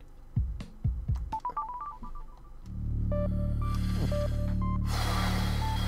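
Electronic telephone tones from a Baba Is You play session: a quick run of short pitched beeps, then a loud sustained dial-type tone with stepping higher notes over it, cutting to brief hiss at the end.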